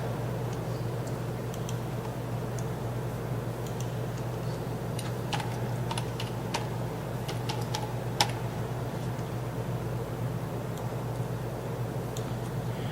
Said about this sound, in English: I bought a new keyboard